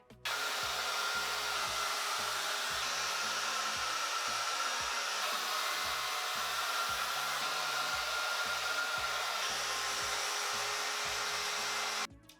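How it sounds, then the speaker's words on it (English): A Babyliss Big Hair Care Hot Air Styler blow-drying clean, nearly dry hair, giving a steady, loud, close airy whoosh and motor whine that runs unbroken for about twelve seconds before switching off. "a super quick and easy, bouncy blow dry, super sleek, smooth hair, all thanks to the Babyliss Big Hair Care Hot Air Styler"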